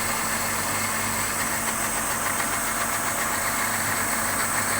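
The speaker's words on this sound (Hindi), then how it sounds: "इसके अंदर हम हरी मिर्चें ऐड करेंगे, हरा धनिया ऐड करेंगे, दही ऐड करेंगे, इसको कवर करेंगे और अच्छी तरह से ब्लेंड कर लेंगे।" A blender grinds green chillies, fresh coriander and yogurt into a green masala paste, a loud steady whirring drone that runs without a break and then cuts off abruptly at the end.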